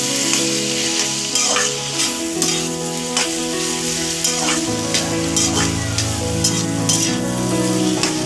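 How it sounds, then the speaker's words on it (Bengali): A spoon stirs bottle gourd and prawn curry sprinkled with coriander in a pan, giving repeated scraping strokes over a steady sizzle, with tonal background music and no speech. "দিয়ে আবার অল্প নাড়িয়ে নিলাম"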